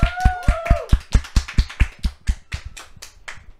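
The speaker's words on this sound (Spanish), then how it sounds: "recibimos con un fuerte aplauso este segundo programa" Sharp, evenly spaced claps, about fifteen in a steady rhythm, close and loud, from a small group or a few people at a Spanish-language faith talk show. A sweeping whistle-like tone rises over the first few claps, and the claps grow softer toward the end.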